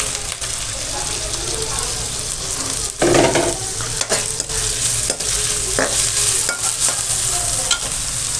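Capsicum roasting and being stirred in a hot pan, a steady sizzle with scraping stirs and clatters throughout, close and fairly loud.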